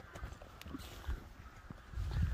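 A horse moves close by, its hooves landing in a few uneven clip-clops over low rumbling background noise, with no one talking.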